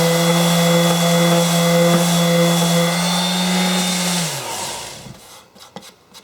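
A power tool whines loudly as a part from a 1918–1920 Union Tool Chest Co. machinist's chest is polished, then spins down and stops, leaving a few faint clicks and handling noises.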